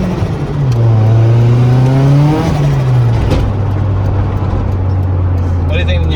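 A car fitted with a new turbo revs hard, its loud engine note climbing and falling through a couple of throttle blips before settling into a steady drone, with people talking nearby.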